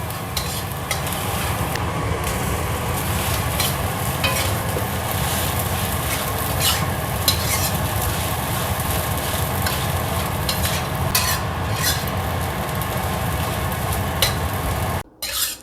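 Leftover rice being stir-fried for nasi goreng in a pan, with a continuous loud sizzle and the repeated scrape of stirring close up, running steadily to the end.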